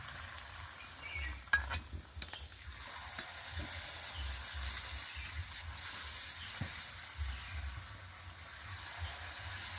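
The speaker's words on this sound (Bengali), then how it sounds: "ঠিক এইভাবেই ফুচকাগুলোকে ভেজে নেবেন।" Fuchka (puchka) puris frying in hot oil, a steady broad sizzle with bubbling crackle and a few sharp clinks from a utensil early on, close and continuous with no talking.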